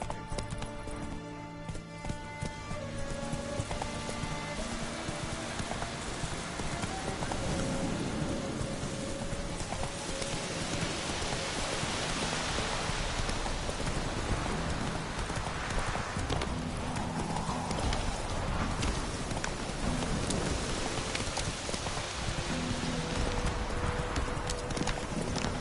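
Roach the horse gallops in The Witcher 3: Wild Hunt, with steady rapid hoof clip-clops up close under rain and game music, lasting throughout.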